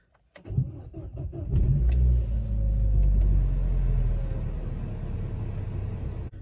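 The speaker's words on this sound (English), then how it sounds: "It struggled a bit because it's cold and the car hasn't been started in a few weeks." A cold 2014 Opel Corsa D 1.4 petrol engine, unstarted for weeks, cranks with a few rapid beats, then catches and settles into a loud, rough, steady idle that rumbles on close by.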